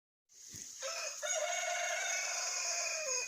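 A barred rock rooster lets out a single long, loud crow close by, rising sharply and holding a strained, ringing note for a few seconds before trailing off, with no talk over it.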